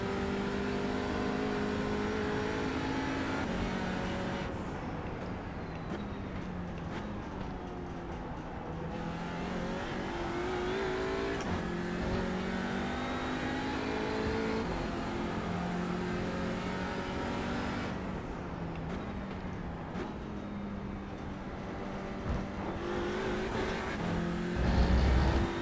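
Race car engine revving and shifting through gears in iRacing at Sebring at night, loud and continuous with rising and falling pitch sweeps as the car accelerates and brakes, no voices.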